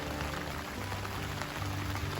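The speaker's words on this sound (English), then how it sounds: "Still raining pretty good, although it got pretty light there for a while." Steady rain falls on a hiking trail, a dense, even hiss of drops on leaves and ground with a soft low rumble underneath, continuous and fairly close, with no voices.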